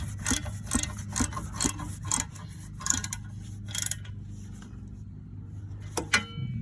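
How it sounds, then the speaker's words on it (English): Small 3/8 ratchet spinning off rear wheel hub bolts on a Chevy Cruze, a close run of rapid clicking and rubbing strokes that stops partway, followed by a faint clink and a metallic rattle. "I just put on my small 3/8 ratchet on, and it'll be easy to take off."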